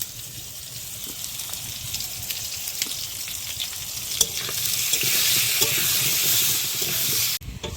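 Potatoes frying in leftover fish-frying oil with salt and turmeric, giving a steady close sizzle with scattered crackles and occasional stirring scrapes, continuous throughout without any talk.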